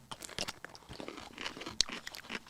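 Crisp crunches of biting and chewing a pickle, several close, quiet bites and chews in an irregular rhythm with one sharp crunch standing out.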